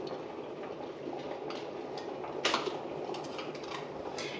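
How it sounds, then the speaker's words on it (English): Water boiling in an electric kettle during home cooking, a steady soft bubbling rumble heard at a distance, with a brief louder burst midway. "That's my water boiling over there."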